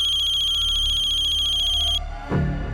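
A telephone rings with a steady electronic ringtone for about two seconds, loud and alone, then cuts off before a brief low rustle.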